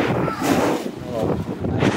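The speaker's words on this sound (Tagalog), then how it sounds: "Sobrang lakas ng hangin." Heavy wind buffets the microphone outdoors at a shop opening, a loud continuous low roar with gusty surges, and a voice talks faintly beneath it.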